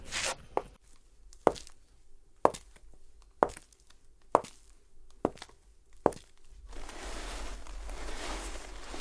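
High-heel footsteps, recorded as Foley, strike a floor scattered with grit. About eight sharp, separate steps land close and alone at a slow pace, followed by a soft scuffing, gritty rustle at the end.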